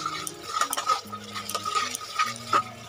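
A spoon stirs spicy onion-based masala frying in a pan for mutton and potato curry. Close scraping and clinks against the pot run over a soft sizzle, with no talking.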